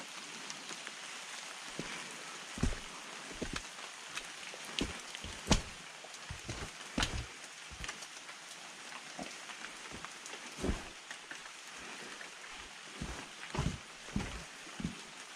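Rain falling in dense New Zealand-style bush with supplejack vines, a soft steady patter with scattered heavier drops tapping nearby surfaces, quiet and continuous, with no talk.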